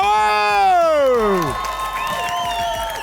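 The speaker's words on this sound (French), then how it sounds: "j'aimerais ça qu'on leur donne une bonne main d'applaudissement et vous donne un excellent spectacle, les 2 équipes. Faites du bruit!" Audience at a Bol d'or improv match in Dolbeau-Mistassini erupts into loud cheering and applause, led by a long drawn-out shout, with the roar of the crowd sustained throughout.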